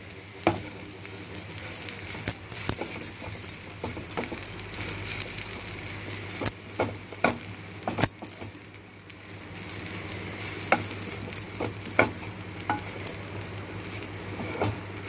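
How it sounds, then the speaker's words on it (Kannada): Ragi uppittu is stirred in a pan over a low flame, giving repeated scraping taps and clinks of the spoon against the pan over a faint sizzle, close and with no talk. "ಇದನ್ನು ಚೆನ್ನಾಗಿ ಕೈ ಆಡಬೇಕು."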